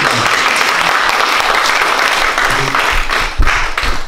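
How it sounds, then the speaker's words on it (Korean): A classroom audience at an introductory singing lesson on posture and breathing applauds in a full, continuous wash of clapping, loud and close, with a slight swell of sharper claps near the end. "다시 박수 빨리"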